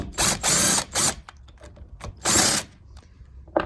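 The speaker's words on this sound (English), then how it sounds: "we'll pop them off with the impact gun real quick" An impact gun spins bolts off a blown differential on a vehicle in a garage. It fires in several short, loud rattling bursts with quiet gaps between them, and a smaller clack sounds at the end.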